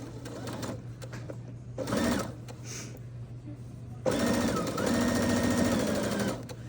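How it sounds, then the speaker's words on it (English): A sewing machine runs a 5/8-inch seam down the side seams of women's pajama pants, whirring in short stop-start bursts and then in one long, steady run of stitching, close and clear. "we're just going to stitch it again 5/8 of an inch"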